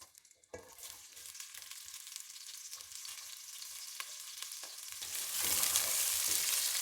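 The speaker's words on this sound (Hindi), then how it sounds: "इसमें करेंगे हम प्याज फ्राई" Onions frying in hot oil over a medium flame, a steady close crackling sizzle that swells noticeably louder toward the end, with no voices.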